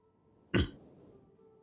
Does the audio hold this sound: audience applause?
no